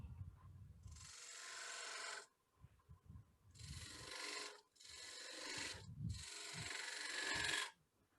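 A woodturning lathe tool cuts a bevel into a wooden three-corner bowl, giving four close, harsh scraping bursts of about a second each, separated by short gaps where a low motor rumble carries on.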